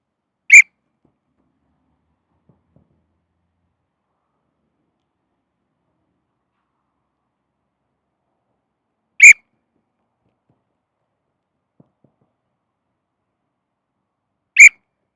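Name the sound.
coach blowing a whistle for sprint drill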